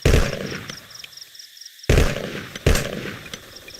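Gunfire in the Vietnam War video game Vietcong cracks out in three sharp, loud shots with short decaying tails, separated by brief pauses.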